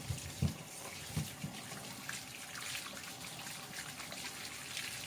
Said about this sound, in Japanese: よく洗って、梅を水につけました。